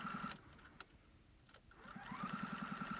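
A sewing machine stitches a neat hem along the bottom of a lined children's apron, running in close rapid bursts of even mechanical rattle with a whirring motor, pausing briefly in the middle before starting up again.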